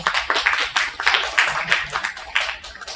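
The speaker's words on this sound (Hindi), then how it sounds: "मैं इनका एक बार जोरदार तालियों से स्वागत करना चाहूंगा।" An audience at a theatre event claps loudly to welcome a chief guest, a dense burst of applause with a voice heard over it throughout.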